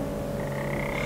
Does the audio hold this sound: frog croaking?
yes